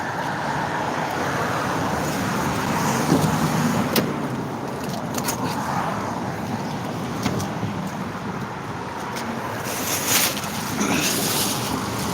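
Car cabin interior ambience, a steady low rumble with faint rustles and small clicks throughout, no speech.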